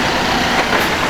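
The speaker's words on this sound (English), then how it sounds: "that's the sound of an automated gearbox." Broadband whir of a Volvo B5LH double-decker bus with an automated gearbox passing on a Brighton street, heard briefly and fairly loud.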